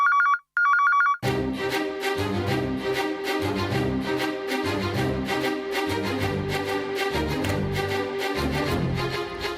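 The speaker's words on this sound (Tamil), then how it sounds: "வாங்க அமிர்தா, சீக்கிரமா வந்து ஃபோன் எடுங்க ப்ளீஸ்" A telephone rings in two short, bright bursts at the start, then dramatic music from a Tamil TV serial takes over loudly.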